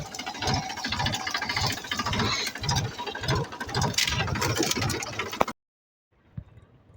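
A farm tractor engine runs with a steady, rhythmic thumping chug close by, loud and continuous, then cuts off abruptly into near silence.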